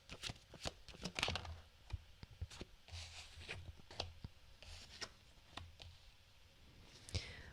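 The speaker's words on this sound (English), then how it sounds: "just typing." Soft, irregular keystrokes tap on a computer keyboard, faint and close in a quiet room.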